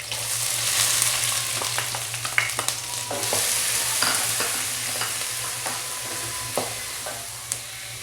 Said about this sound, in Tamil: இந்த மாதிரி ஒரு ஹாஃப் ஃப்ரை ஆன அப்புறம் நம்ம ஆனியன் ஆட் பண்ணிக்குவோம்